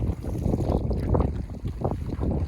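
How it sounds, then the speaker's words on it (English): Canoe paddling on a lake in Algonquin Park, a steady wash of water and wind noise with soft, irregular swells of paddle strokes close to the microphone and no voices. "Get a little paddle in before the big hike today."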